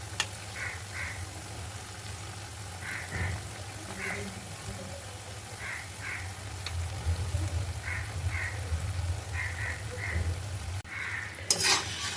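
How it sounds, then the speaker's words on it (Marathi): Mathri snacks deep-frying in hot oil until golden brown, a steady low sizzle with faint scraping stirs now and then, close and moderately quiet, no talking. "आपल्याला छान गोल्डन ब्राऊन कलरवर त्याला तळून घ्यायचे आहे"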